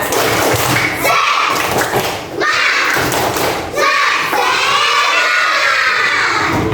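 A class of third- and fourth-grade children does a loud rhythmic spirit clap in a combined classroom, with repeated sharp thumping bursts and excited children's voices shouting along.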